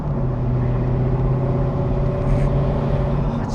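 A Mercedes SL63 AMG with its standard factory exhaust accelerates with a deep, steady rumbling roar heard from inside the car, loud and continuous for a few seconds, with no voices.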